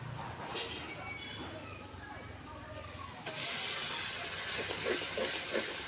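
Onion paste fries in hot oil for chicken masala, its steady sizzle jumping to a louder, brighter hiss partway through, with a voice talking over it.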